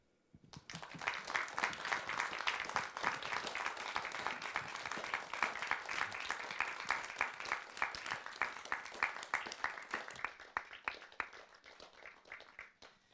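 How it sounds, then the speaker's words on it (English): Audience applause at a theatre event, a steady patter of many hands clapping together for around ten seconds, fairly distant and moderate in level, then thinning out and fading at the end. "Let's give applause to Isa."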